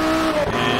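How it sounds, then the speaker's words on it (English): A Sesto Elemento race car engine from the Shift 2 Unleashed racing game roars loudly and continuously at high revs, a steady close engine note with no voices over it. "It sounds very much like the real-life Sesto Elemento."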